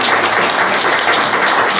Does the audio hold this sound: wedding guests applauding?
yes